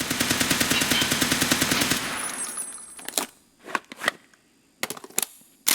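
Automatic rifle firing M62 rounds in Escape from Tarkov: a rapid sustained burst of about two seconds, then a few scattered single shots and clicks, loud and close.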